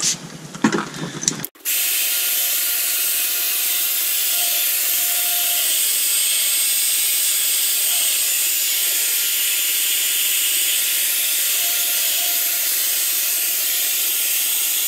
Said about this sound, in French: le but, c'est de le ternir, de le poncer en fait.